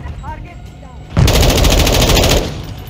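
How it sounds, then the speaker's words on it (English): Stun grenade going off in the Call of Duty: Modern Warfare II hardcore multiplayer game, a sudden loud burst with a ringing, buzzing tail lasting over a second after quieter game sounds. "Stun grenade out."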